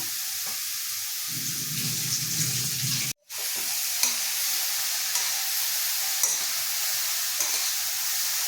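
Carrot halwa is stirred in a pan, a continuous close sizzle and scraping over more than eight seconds with a brief full cut to silence partway through and a few soft clinks.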